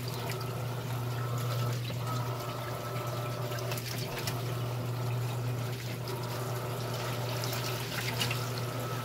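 Electrolux top-loading washing machine (LPR13/LPR16/LPR17 series) agitating water and a load of T-shirts washed with powdered soap, a steady churning slosh over a constant motor hum, close and continuous.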